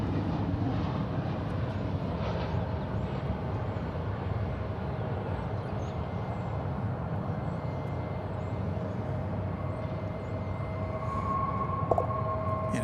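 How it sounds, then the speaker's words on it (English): American Airlines Boeing 737-800 landing on a runway at DFW airport, heard as a steady, distant broadband jet roar that holds level throughout, with no talk. "Here comes American Flight 2540 from Omaha, Nebraska, 737-800"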